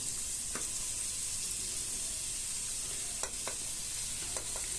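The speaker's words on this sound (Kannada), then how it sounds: "ಈಗ ನಾನು ಅಷ್ಟನೇ ಈರುಳ್ಳಿ ಹಾಕ್ಕೊಂಡು ಕಾದಿರುವಂಥ ಎಣ್ಣೆಗೆ ಚೆನ್ನಾಗಿ ಫ್ರೈ ಮಾಡ್ಕೊತಾ ಇದ್ದೀನಿ" Onions and mutton fry in hot oil, giving a constant, fairly quiet sizzle with a few faint stirring scrapes and taps now and then.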